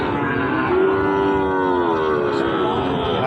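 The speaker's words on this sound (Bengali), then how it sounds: "দেখাচ্ছিলাম আপনাদেরকে নতুন হাট থেকে চমৎকার সাইজের গরু" A calf at a livestock market near a border area gives one long, drawn-out moo, loud and close over a busy murmur of crowd noise.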